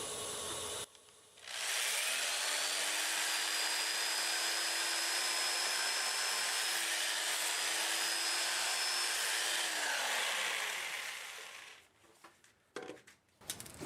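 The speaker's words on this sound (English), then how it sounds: "I can sand this under power for quite a ways up." A black locust burl bowl being power sanded on a wood lathe: a steady loud whirring hiss that starts abruptly and runs about ten seconds, then winds down to faint clatter and handling noises.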